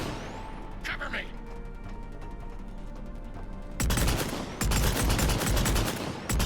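Rapid bursts of Viper sniper rifle fire from the video game Mass Effect 3, loud and close, with repeated sharp cracks in the second half over a busy game soundscape where voices talk earlier.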